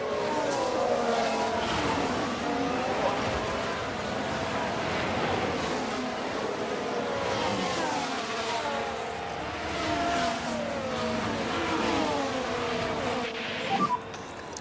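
Formula 1 race cars roar in F1 Manager 24, with high-pitched engines whining and shifting pitch continuously as cars pass and accelerate, loud and sustained throughout.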